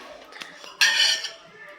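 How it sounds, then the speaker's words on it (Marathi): A knife scraping and clinking against the metal sides of a mold of freshly steamed khaman dhokla, a short bright metallic scrape in the middle with faint kitchen clatter before and after. "ऑलरेडी त्याने साईड्स सोडलेल्याच आहेत तरीसुद्धा एकदा चाकूने आपण साईड त्याच्या सोडवून घेऊयात"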